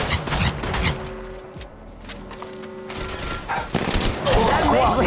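Gunfire crackles through a shooter video game firefight in repeated bursts, some clustered rapid volleys and some single sharp shots. A voice talks intermittently over the shooting.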